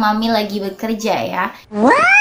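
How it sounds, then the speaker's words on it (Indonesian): A house cat meows insistently up close, with several drawn-out, rising cries, while someone speaks to it. "kalian bisa lihat itu kucing"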